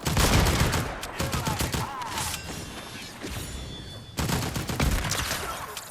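Rapid bursts of gunfire from a Fortnite match crackle loud and dense, with a brief lull in the middle before another volley, over a faint voice.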